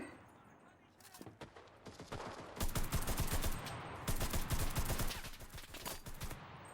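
Machine gun fire rattles in rapid bursts during a battle in the video game Enlisted, dense and loud, with a voice talking over parts of it.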